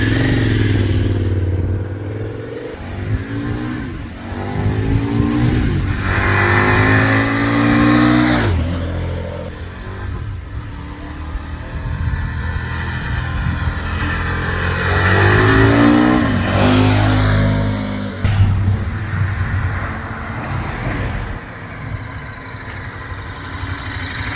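A 2014 KTM 1190 Adventure motorcycle engine revs hard several times, each throttle blip climbing steeply then dropping back to a rough idle, loud and close with no talking.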